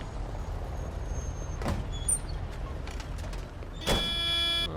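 A van in the video game Mafia 2 drives along with a steady low engine rumble, broken by a couple of sharp hissing, rattling bursts midway and near the end, with no talking.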